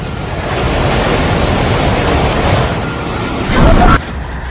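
Floodwater from a flash flood surges through streets in Nepal, a steady loud roaring rush of water with a heavier burst near the end before easing slightly.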